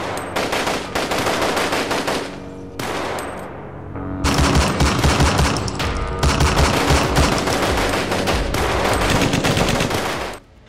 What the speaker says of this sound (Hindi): AK-47 से अंधाधुंध फायरिंग की गई।